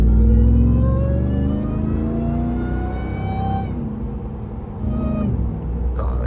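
A modified Ram TRX pickup with an aftermarket intake lets out a loud, close supercharger whine that climbs in pitch over a deep revving engine, dips briefly, then swells again.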